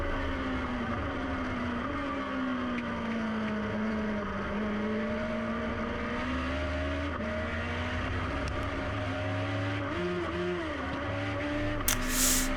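Legend car racing engine droning steadily at high revs throughout, with pitch shifts around a missed gear change where the revs stumble and flare before settling; loud, close and continuous with no talk.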